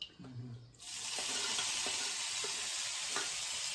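Mint leaves fry in a pan, a loud steady sizzle that bursts in after a brief quieter start and holds broad and close, with a few faint scraping stirs underneath.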